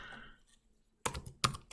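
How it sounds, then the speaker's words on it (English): Code being typed on a computer keyboard, a faint soft patter at first followed by a near-silent pause and then a few sharp, close key clacks. "I'm writing window partition by"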